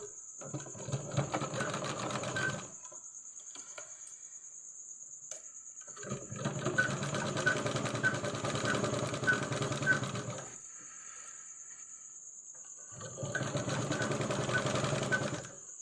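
A sewing machine stitches fabric for a school escort in three runs of steady mechanical whirring, separated by pauses, over a constant high background hum.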